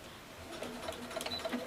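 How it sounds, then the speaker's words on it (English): Sewing machine stitching the binding on a quilt-as-you-go Christmas stocking, a soft fast mechanical whir and patter running steadily and fairly close, with no talking. "And now I'll bring this back to the sewing machine."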